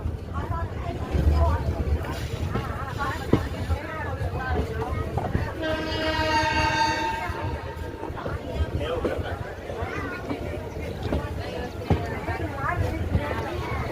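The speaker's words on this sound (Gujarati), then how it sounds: "જો અમારા જતીનભાઈ કહે છે અમારી ગાડી ઉપડી લટપટ લટપટ લટપટ ધીમે ધીમે હાલી જાય છે." A passenger train at Khodiyarnagar near Botad pulls away slowly, its low rumble and wheel clatter building beneath chatter, with a drawn-out horn sounding midway.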